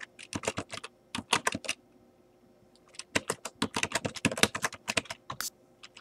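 Quick bursts of typing on a computer keyboard, close and crisp, with a short pause in the middle before the rapid key clicks resume.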